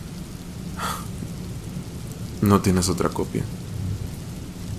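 Steady rain falls through a stormy night with a low rumble of thunder, while a voice speaks briefly over the downpour.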